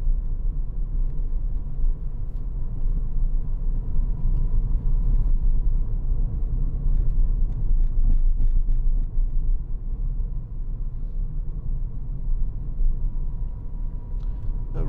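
A 2013 Citroen DS3 1.6 VTi petrol engine ticks over at idle, giving a steady low close-up rumble that stays even for the whole stretch, with faint occasional clicks and no talking.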